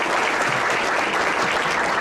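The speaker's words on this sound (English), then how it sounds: "Can we give them all a round of applause, please?" A large audience applauds a war veteran volunteer at a senior volunteer recognition event, a dense, steady wash of clapping that holds at full loudness throughout.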